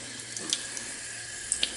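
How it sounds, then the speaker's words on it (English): Tap water running over a Berkey water filter element into a sink, a steady faint splashing stream with a few small clinks, alone without talk. "I'm going to run some water over this"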